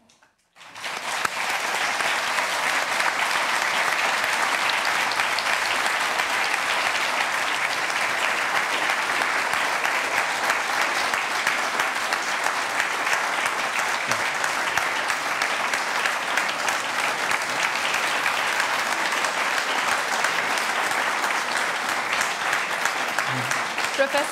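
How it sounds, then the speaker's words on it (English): A long, even round of applause from the audience after a discussion on fighting corruption in China, many hands clapping as one continuous roar that begins abruptly and holds steady for over twenty seconds. "this round of applause tells you how much this has resonated with our audience"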